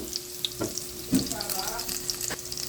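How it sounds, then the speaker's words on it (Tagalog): Garlic sautéing in a pan for chopsuey, a steady close sizzle broken by a few sharp clinks and scrapes of stirring. "Gisa-gisa ng bawang."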